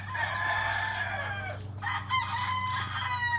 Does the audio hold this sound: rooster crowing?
yes